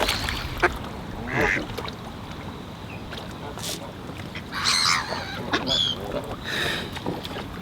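Ducks quack repeatedly beside a canal narrowboat, several nasal calls in short bursts close by, with a person's voice now and then and light outdoor water ambience.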